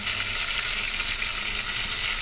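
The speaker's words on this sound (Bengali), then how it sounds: "আর এইখানে দেখো চিংড়ি মাছ ভাজা হচ্ছে" Prawns frying in a pan give off a steady, loud sizzle with crackling spatter that runs unbroken throughout, and no one speaks.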